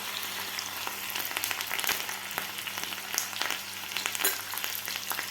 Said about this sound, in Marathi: आपल्याला लसूण सुद्धा थोडासा फ्राय करून घ्यायचा आहे.